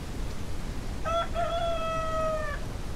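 A rooster crows once in the Ranch Simulator farming game, a clear drawn-out cock-a-doodle-doo at mid distance over a constant background hiss.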